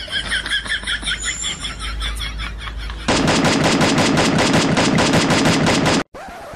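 Gunfire from the mobile shooter game Free Fire: loud, rapid automatic bursts in a steady rhythm for several seconds, cutting off abruptly near the end.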